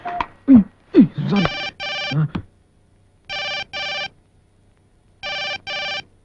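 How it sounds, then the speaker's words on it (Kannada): A telephone rings in a movie scene: two pairs of bright electronic double rings sound clearly in a quiet room, following a few short vocal sounds at the start. "ಬೆಳಗಿಂದ ರಿಂಗ್ ಆಗ್ತದೆ."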